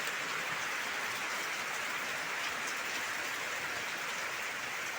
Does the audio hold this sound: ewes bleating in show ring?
no